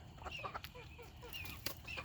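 Several chickens cluck and squawk in short, agitated bursts, with a busy, restless rhythm at moderate volume and no talking.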